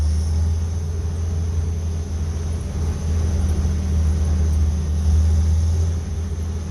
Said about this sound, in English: That's better with the choke on.